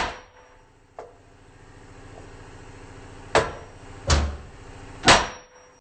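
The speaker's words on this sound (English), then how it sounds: "we use the ball peen hammer, which is this side of the hammer, to fit in here, like that, and then we whack it" A ball peen hammer strikes a frozen axle in the wheel hub of a BMW E36, giving a few heavy, isolated metallic whacks spaced about a second apart after a light tap, close and otherwise quiet.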